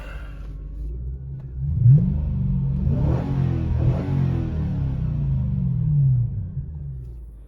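A second-generation Lexus GS430 engine runs after an alternator replacement, a close, continuous low rumble that swells briefly as the engine revs, then settles back to a steady idle.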